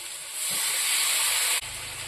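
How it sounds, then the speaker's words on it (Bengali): Water poured into a hot pan of frying rohu fish heads, a loud broad steam hiss and sizzle that swells and holds steady, then drops abruptly near the end into a lower bubbling simmer. "জল দিয়ে দেবো"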